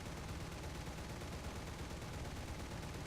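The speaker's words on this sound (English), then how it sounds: "Strafes the enemy tanks." A War Thunder fighter aircraft strafes enemy tanks, heard as a steady, dense wash of rattling gunfire with no breaks, fairly faint and distant.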